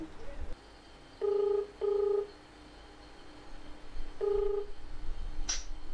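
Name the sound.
phone call being dialed to Samsung service center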